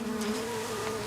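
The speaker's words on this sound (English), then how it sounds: "450 buzzing hives from North Dakota to California for the winter" Honey bees buzz in hives loaded on a truck, a dense, steady, close swarm hum that runs briefly without pause.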